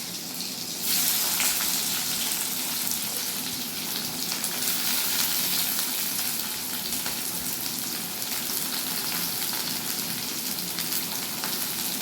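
Onion sizzling and frying in hot oil in a home kitchen, the start of a Bengali bhetki fish liver fry; a steady, close, loud hiss kicks in after about a second and carries on alone without pause.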